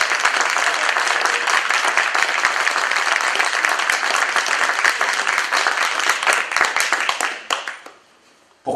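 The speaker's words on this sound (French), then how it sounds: "je voudrais que vous applaudissiez Aline Aubasson" Audience applause for a musician at a concert: sustained, dense clapping from a sizable crowd that stays full for several seconds and then fades away quickly.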